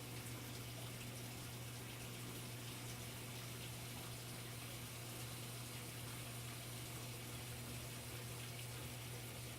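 A washing machine fills with water during a diagnostic test, making a steady, faint rush of flowing water with a constant low hum throughout and no talk.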